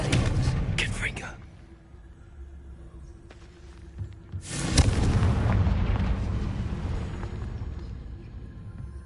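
A fiery Confringo spell explosion in a video game bursts loudly near the start, then a second broad blast swells around the middle and rumbles on through the end.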